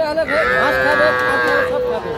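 A young heifer calf at the Raniganj livestock market moos loudly in a long, drawn-out bleating call, close by, with faint background noise and no talking.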